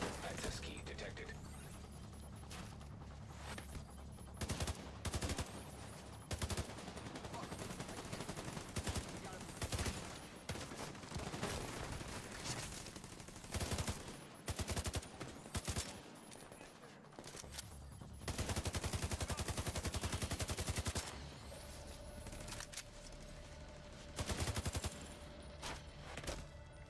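Rapid bursts of gunfire in the Deadpool video game, dense and loud across the whole stretch with short pauses, mixed with game effects and occasional voice lines.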